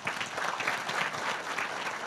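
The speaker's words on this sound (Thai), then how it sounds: "ปรบมือให้กับความคิดผมหน่อยสิครับ" Sustained applause from a seated audience at a Thai business seminar, an even, moderately distant patter of many hands with no voices over it.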